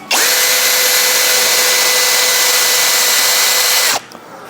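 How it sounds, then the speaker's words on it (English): A power drill whines loudly and continuously at high speed for about four seconds drilling off rivet heads on a Land Rover Defender side window, then abruptly stops. "what I'm going to do is I'm going to drill the heads off"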